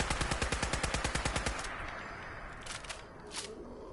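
An automatic weapon fires in Fallout 76: a rapid, evenly spaced stream of about fifteen close shots, then the firing stops and leaves a quieter hiss with faint clicks.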